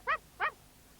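A small dog named Tubby gives two short, high yipping whimpers in quick succession, faint and alone against quiet background.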